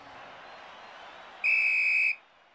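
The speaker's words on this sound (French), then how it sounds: "Et c'est le coup de sifflet final." A single shrill cartoon referee's whistle blast signals the final whistle of a football match, sounding for under a second over a faint crowd murmur, then fading into quiet.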